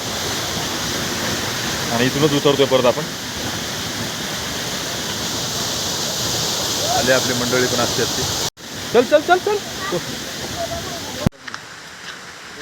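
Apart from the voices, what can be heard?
waterfall at Raigad fort in the rain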